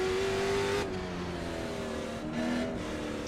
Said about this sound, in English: Engine still sounds and feels good.